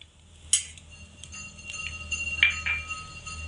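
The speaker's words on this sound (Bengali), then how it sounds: "ফোড়নটাকে হালকা একটু নাড়াচাড়া করে দেব" Tempering spices are stirred in a pan, giving a few light metallic clinks and scrapes that ring briefly over a quiet background.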